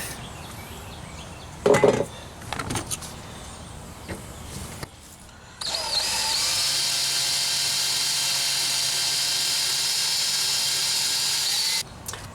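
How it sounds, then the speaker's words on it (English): A few knocks and scrapes give way to a loud, steady high-pitched whine of a drill biting into a broken, rusted hardened steel bolt, running evenly before stopping abruptly. "drilling into hardened bolts like this"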